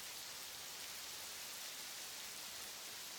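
Steady rain falling, a dense, even hiss with no breaks, fairly quiet and with no other sounds over it.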